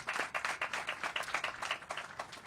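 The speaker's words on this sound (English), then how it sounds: "Please give him a round of applause" Steady applause from an audience at a panel event, many hands clapping in a dense, continuous patter at moderate volume.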